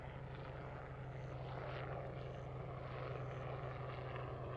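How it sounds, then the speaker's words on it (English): A steady low droning hum of a helicopter overhead, fairly constant and somewhat distant, with a faint whine above the rumble; no voices. "The noise you're hearing is the helicopter just passing overhead."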